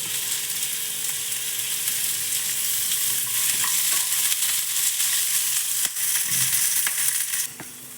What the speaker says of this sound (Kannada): ಒಂದು ಸ್ಪೂನ್ ಎಣ್ಣೆ ಹಾಕ್ಕೊಂಡು ಇದನ್ನು ಕೂಡ ಫುಲ್ಲು ಕೆಂಪುಗಾಗೋ ಥರ ಹುರ್ಕೋಬೇಕು